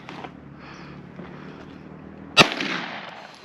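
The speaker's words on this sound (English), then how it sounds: "This is how you shoot." A single sharp gunshot cracks loud and close at an outdoor gun range, its blast trailing off into a ringing outdoor decay after a stretch of quiet ambient noise.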